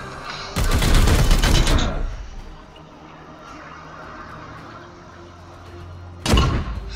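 Support fire from Warhammer 40k Chaos Gate Daemonhunters erupts as a loud, dense burst of rapid gunfire lasting over a second, then fades to a low rumble before a second short volley starts.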